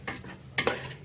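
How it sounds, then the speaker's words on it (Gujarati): Ladle stirring dhokla pieces in a pot on a rustic desi clay stove, with soft scraping and a couple of light metallic clinks, quiet and close. "આ રીતના હલાવી લેવાના છે"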